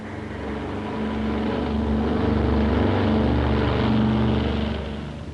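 Transport planes fly over the Himalayas: a steady, droning propeller-engine roar that swells slightly in the middle, with no voices.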